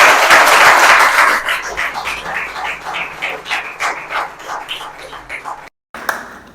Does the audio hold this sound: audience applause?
yes